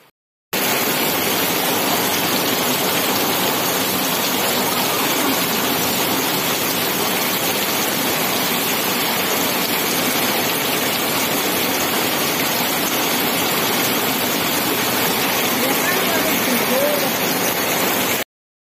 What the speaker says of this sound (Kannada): ಒಂತೆ ಬರ್ಸೊಂದು ತೂವೊಂದು ಬರ್ಕ